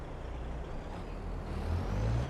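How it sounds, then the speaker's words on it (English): Volvo logging truck in Farming Simulator 22, its engine running as a low, steady rumble that swells slightly toward the end, with a faint air hiss above it and no talking. "I love this Volvo truck, by the way."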